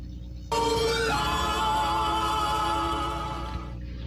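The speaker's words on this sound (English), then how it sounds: "That was the noise of the heat ray." A Martian heat ray sound effect from War of the Worlds starts abruptly and holds as a loud, sustained tonal drone with a shifting pitch, played back from a device and then cutting off sharply after about three seconds.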